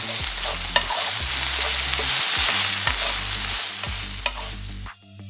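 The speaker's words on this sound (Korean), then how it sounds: "반 정도 익으면 소스 넣고 잘 저어서 졸여주고 마지막에 청양고추 넣고 볶아서 불을 꺼줬다." Pink sausage stir-fried in a pan with sauce, garlic stems and Cheongyang chili, a loud steady sizzle broken by repeated scraping stirs, cut off abruptly when the heat goes off at the end.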